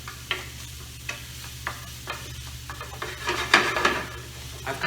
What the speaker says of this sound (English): I'm going to sweat those shallots until they become nice and translucent